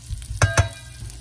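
Loaded fried potatoes sizzling in a pan, a soft crackling fry broken by two sharp scraping clatters close together, with no talk.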